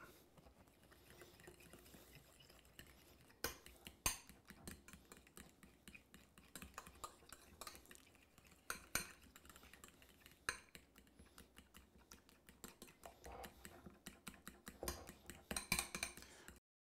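A utensil stirs lemon juice and zest into a small batch of sauce, giving faint, irregular clinks and scrapes against a bowl with occasional sharper taps.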